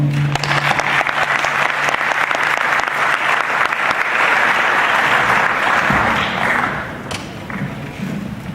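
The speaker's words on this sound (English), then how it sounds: "If everyone would please join me in a warm round of applause" An indoor audience applauds steadily for several seconds to welcome a speaker at an event, dense clapping that gradually thins out toward the end.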